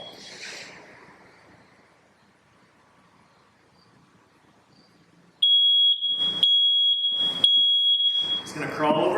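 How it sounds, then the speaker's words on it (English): A household smoke detector starts mid-clip with a loud, piercing continuous shriek, broken by sharp thumps and rustling, while people speak around it; the first half is quiet room sound. "We're going to set our smoke detector off."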